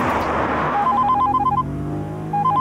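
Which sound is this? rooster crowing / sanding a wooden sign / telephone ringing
telephone ringing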